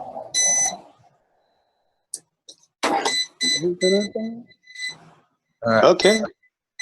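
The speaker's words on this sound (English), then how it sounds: "Now I got beeping." An energy meter gives short electronic beeps in several bursts with gaps between, close by, while someone talks over and between them.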